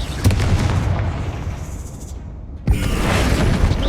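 A Confringo blasting spell explodes in the video game Hogwarts Legacy, loud booming bursts with a sharp blast near the start and another after a brief gap of quiet, with no talking.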